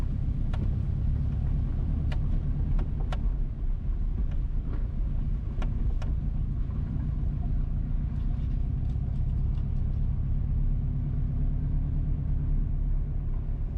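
A car driving west along Boscobel Drive in Boscobel Heights, St. Mary, Jamaica, gives a steady low engine and road rumble throughout, with a few faint clicks or knocks over the top and no talking.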